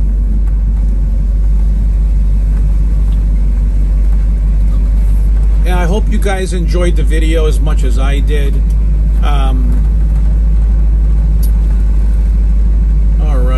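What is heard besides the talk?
1967 Chevrolet Camaro driving and engine rumbling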